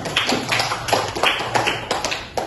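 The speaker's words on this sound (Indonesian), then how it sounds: "Oke, kasih aplaus dulu untuk kelompok 2." A classroom of students applauds a presenting group, a steady patter of many hands clapping close by, with no talking over it.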